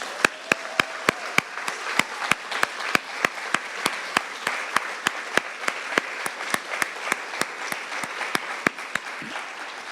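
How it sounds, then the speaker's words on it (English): Applause for Helen at a panel event, heard as a steady run of sharp, evenly spaced claps, roughly three per second, over a thin bed of softer clapping for the whole stretch. "join me in giving a rousing applause to Helen"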